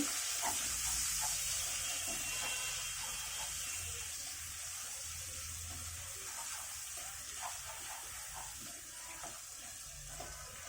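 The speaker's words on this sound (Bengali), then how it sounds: "এখন এর ভিতরে দিয়ে দিচ্ছি কিছু কাটা পেঁয়াজ" Two medium chopped onions fry in a pan while a chicken roast is cooked, giving a steady, soft sizzle and hiss that runs throughout, with faint clinks of stirring.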